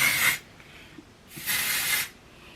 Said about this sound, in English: This is texture spray, it's not even hairspray.